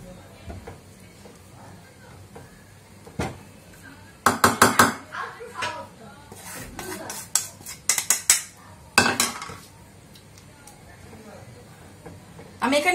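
A spoon stirs oats into milk in a pot on a stove, giving irregular metallic clinks and scrapes in clustered bursts over a soft simmering background, with a voice talking now and then.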